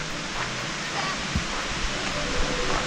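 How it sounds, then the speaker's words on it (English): Water rushes near Etiwanda Falls along a hiking trail. The roar is a steady, dense wash that surrounds the listener, with a few faint low thumps and no clear speech. "And now the sound of water is everywhere."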